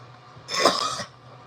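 One short, raspy cough sounds up close, brief and alone against a faint background hum.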